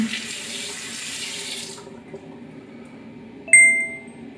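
A tap runs steadily into a sink while a face is washed, a soft continuous rush of water that cuts off partway through, followed by a bright ringing ding.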